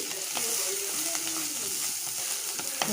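Drumstick leaves sauté in a hot pan for a murungai keerai poriyal, with a steady close sizzle of frying and a few faint scraping stirs running through it.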